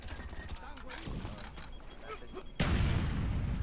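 Gunfire in the video game Call of Duty Black Ops during a Search and Destroy round on the Firing Range map, dense bursts of shots throughout that swell into a loud, sustained barrage near the end, with a voice talking over it.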